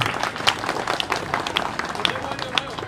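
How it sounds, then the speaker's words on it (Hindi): Scattered clapping from a small group at an office opening for Hamid Bhai, with uneven claps mixed under chatter and background voices. "हामिद भाई के लिए तो तालियां बजाओ यार"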